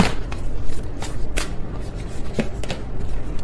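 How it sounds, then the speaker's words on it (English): A deck of tarot cards is shuffled by hand in a few loose, uneven riffles and taps, close and fairly loud, with no talking. "That was a sloppy shuffle."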